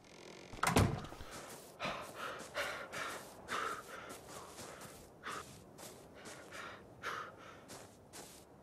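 A door shuts in the video game ARK: Survival Evolved on Xbox One with one sharp thud near the start, followed by a run of soft, breathy rustles and light footstep-like bursts at low volume.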